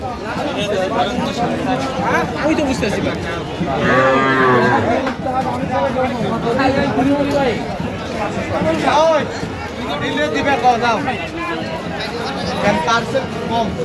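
Sahiwal bulls and calves mooing repeatedly at a busy Brahmanbaria livestock market, loud and close, with crowd chatter and people talking throughout.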